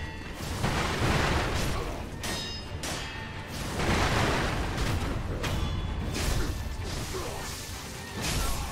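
Loud bursts and crashes of the Shinobi Firecracker prosthetic tool during a mini-boss fight against Shinobi Hunter Enshin of Misen in Sekiro: Shadows Die Twice, several sharp explosive pops and swooshes mixed with sword-clash impacts, close and punchy.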